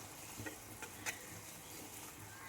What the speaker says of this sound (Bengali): খুব ভালোভাবে মশলাগুলো ভেজে নিচ্ছি।